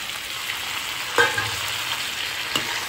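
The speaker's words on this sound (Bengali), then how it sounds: "পেঁপেটা দিয়েও আমি সমস্ত কিছু ভালোভাবে মিশিয়ে নিচ্ছি।" Potatoes and half-boiled papaya being stirred and fried in spices for a Bengali alu peper ghonto with prawns, a soft continuous sizzle with a couple of sharper spoon scrapes against the pan, close and without talk.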